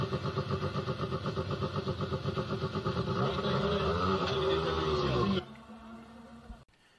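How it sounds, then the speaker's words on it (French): A Lancia Delta S4 rally car's four-cylinder engine gives a deep, pulsing rumble that swells and climbs as the car sets off, then drops abruptly to a quieter background before cutting out. "Dans le grondement sourd de son 4 cylindres,"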